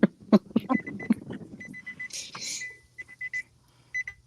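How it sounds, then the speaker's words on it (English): A car's warning chime sounds while the driver's door is open and the key is in the ignition, giving short, evenly repeated beeps. Brief voices or laughter come before it. "There's a mysterious beeping noise."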